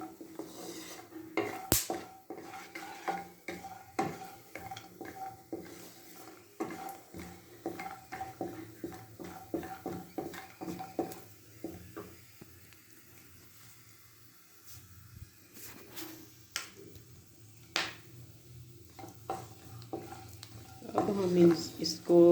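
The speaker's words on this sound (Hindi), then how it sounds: "बारी बारी ये तीनों चीज़ें डालकर थोड़ी देर के लिए इनको फ्राई करें ताकि इनका कच्चापन ख़त्म हो जाए" Cashews and other nuts fry in a pan for a vermicelli kheer mix, with a quiet sizzle under frequent spoon stirs and metallic clinks against the pan, and a voice speaks briefly at times.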